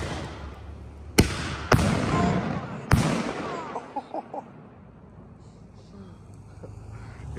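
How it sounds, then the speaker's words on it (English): Loud salute ball shell fireworks go off outdoors as three sharp bangs in quick succession with rolling echoes, followed by scattered smaller pops, while people talk and react throughout. "Damn, those are loud."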